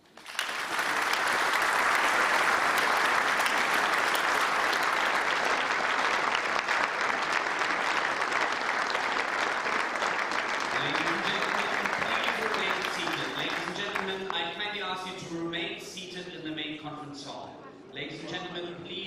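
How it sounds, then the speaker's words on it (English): Audience applause in a hall, a dense sustained clapping that fades out toward the end as a voice begins speaking over it. "Let's offer a round of applause."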